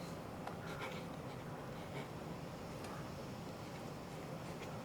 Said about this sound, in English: Let's just write it that way.